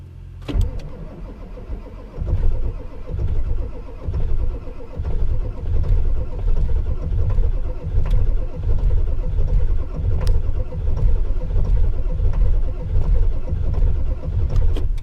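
A cold Ford 7.3 diesel engine cranks over roughly and fights to catch, giving a loud, uneven chugging rumble that surges and sags for the whole stretch, with a few sharp clicks near the start.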